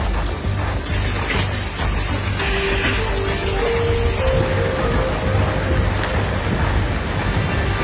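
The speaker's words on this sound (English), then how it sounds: "The storm brought large hail and heavy rain" Heavy rain and hail pounding down steadily during a severe storm in Texas, a loud continuous roar close by with no clear thunder, unbroken throughout.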